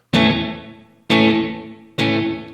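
An electric guitar with reverb set to an 80% mix plays three strummed chords, each struck hard and left to ring in a long washy tail before the next. No one talks.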